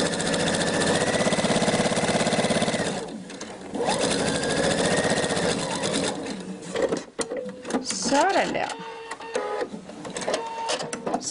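A sewing machine stitching a kimono, running in a loud steady mechanical whir that pauses briefly, then restarts in shorter bursts with clicks and faint background voices.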